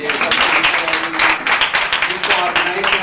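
Lively audience applause at a youth center workshop, loud, continuous clapping from a crowd that pulses slightly in intensity, with faint voices mixed in underneath.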